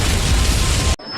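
A loud, sustained CGI explosion effect from the monster film Mega Python vs. Gatoroid roars as dense broadband rumble for about a second, then cuts off abruptly into near silence.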